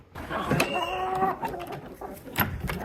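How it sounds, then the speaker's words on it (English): Chickens cluck and call at a home in the morning, a drawn-out tonal call in the first second followed by scattered short clucks, with a person speaking briefly nearby. "Good morning, chickens."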